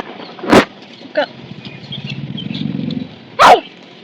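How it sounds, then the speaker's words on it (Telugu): A dog barks sharply several times, two loud close barks with a softer one between, over a low rumbling background of what may be a passing vehicle. "కుక్క"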